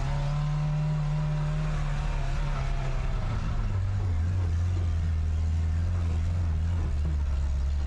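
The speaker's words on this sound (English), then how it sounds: "Driving Ronaldo's Lambo is really fun." A Lamborghini's deep engine rumbles steadily, its pitch shifting up and down as it revs, heard close and continuous.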